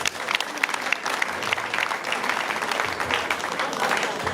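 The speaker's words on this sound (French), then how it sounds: "Applaudissez pour elle, s'il vous plaît." Crowd at a funeral wake in Douala applauds steadily, dense clapping filling the whole stretch at close range with a few voices mixed in.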